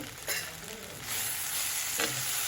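Okra and potato masala fry sizzling in a pan while being stirred, steady close frying hiss with a few sharper scraping strokes, no voices.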